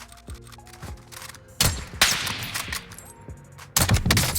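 Gunfire in the shooter game Warzone during a sniper exchange: several sharp, loud shots spaced apart with reverberant tails, near and unobscured by speech.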